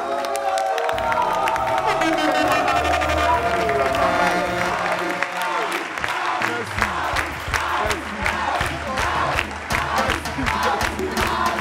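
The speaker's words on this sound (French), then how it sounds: "Applaudissez pour l'encourager." A studio audience on a television talk-show set bursts into loud, sustained applause and cheering, with whoops rising over the clapping and voices mixed in throughout.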